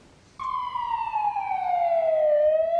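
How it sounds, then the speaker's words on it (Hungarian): A police car siren starts abruptly and holds a loud, steady wail that slowly drops in pitch, heard up close and alone with no talk over it. "Szirénázó rendőrautók és biztonsági erők kíséretében érkezett Dragan Jurics"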